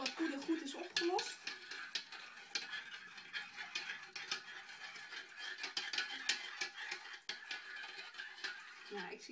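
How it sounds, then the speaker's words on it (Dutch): A glass straw swirls powder into a liquid, producing a steady close patter of light clinks and swishing against the container, running continuously beneath a person speaking. "Ik roer hem er doorheen. En zorg even goed dat alle poeder goed is opgelost."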